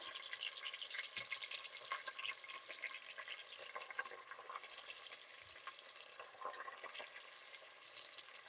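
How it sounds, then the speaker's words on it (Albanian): Veal fries lightly in a pan for trahana, giving a soft, steady sizzle with faint stirring scrapes throughout, quiet and with no talking. "Sa të marrë një skuqje të lehtë, shumë pak mishi."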